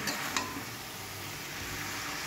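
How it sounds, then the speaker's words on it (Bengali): Leafy greens are stirred together with vegetables in a frying pan for a bitter-gourd fish-head dish, giving a soft, steady sizzle with one brief scrape of a spatula near the start. "এরপরে শাকটাকে ভালো করে সবজির সঙ্গে নেড়ে নিচ্ছি।"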